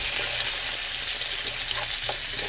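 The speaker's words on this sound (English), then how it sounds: "we added the pepper and the onion, and the white part of the scallion, and we're stirring that for 2 to 3 minutes" Pepper, onion and the white part of scallion sizzle loudly in a hot pan with snap peas and pork chop drippings, a steady close frying hiss with faint scrapes of stirring.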